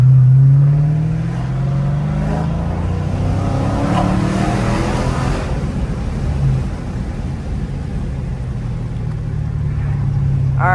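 Dodge Challenger Scat Pack 392 V8 accelerating hard, a loud, continuous close-up engine roar that climbs in pitch through the pull and stays heavy for about ten seconds.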